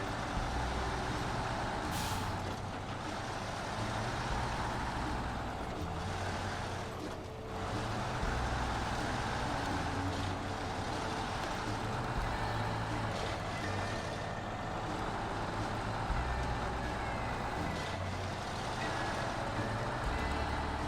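A heavy truck in the SnowRunner game drives across ice with a steady, loud engine rumble and grinding texture, brief hissing bursts near the start and around seven seconds, no talk.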